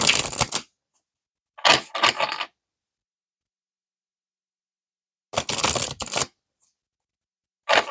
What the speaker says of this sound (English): So I'm going to shuffle them again. Shuffle them before I start.